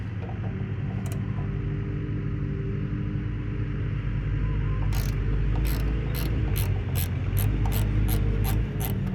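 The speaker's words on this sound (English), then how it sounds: "Let me get a wrench. Let me try to pull that bowl." A wrench works at the carburetor bowl of an old Sears push mower, giving a run of rapid ratchet clicks in the second half over a steady low hum, close and fairly loud.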